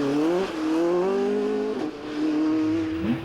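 A 2.5 litre Ford Escort Mk2 rally car drives hard on a stage at the Donegal International Rally, its engine note loud and close, rising and dropping as it shifts through gears, with no talk over it.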